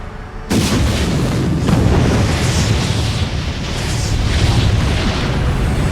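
Sci-fi battle explosions as ships are struck by enemy fire, a sudden loud blast kicking in after a brief pause and rolling into a continuous roaring barrage of booms that fills the whole stretch.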